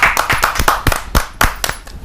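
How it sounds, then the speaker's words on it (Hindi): An audience claps at a Hindi kavi sammelan poetry gathering, with sparse, distinct hand claps in an uneven rhythm that sound close and fairly loud. "इनका तालियों के साथ स्वागत करें।"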